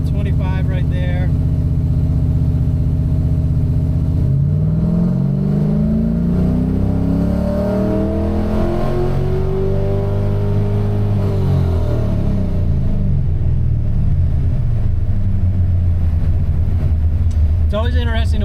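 An LS-swapped Mazda RX7 engine runs at part throttle, a loud close drone that rises and falls in pitch through a sweep, with a voice speaking over it.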